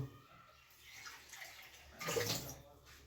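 Water poured into a pan of sugar to make syrup, a soft trickling pour that swells briefly near the end before easing off, quiet and close.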